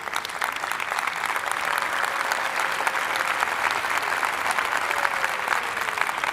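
A church congregation applauds a family celebrating their daughter's graduation, with dense, sustained clapping that continues evenly from start to finish.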